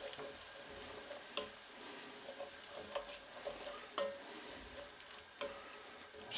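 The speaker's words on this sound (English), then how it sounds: "Deglaze the bottom and let the alcohol burn off" Alcohol sizzles off as a pan is deglazed for a chicken, ham and leek pie, a steady quiet frying hiss broken by sharp scraping taps of a utensil stirring the bottom.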